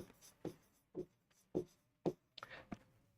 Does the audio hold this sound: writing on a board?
yes